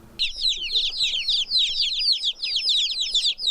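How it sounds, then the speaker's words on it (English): Many baby chicks, a flock of 29, peep continuously in a high-pitched, overlapping chorus, close by and steady, with no talking. "We recently received a flock of 29 baby chicks."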